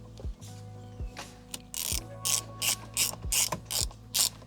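Ratchet fitted with a T30 Torx bit undoing the steering wheel bolts on a Honda Civic EJ2, a few slow clicks followed by a run of rapid, crisp ratcheting bursts, close and alone.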